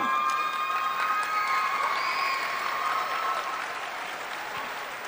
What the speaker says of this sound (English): Thank you for applauding them.